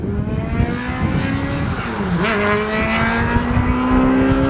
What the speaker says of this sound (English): Crotch rocket.